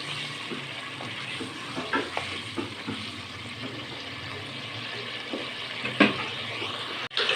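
Keema curry bubbles and simmers in a pan on high heat, with soft, low-level sizzling and occasional stirring clinks and scrapes against the pan.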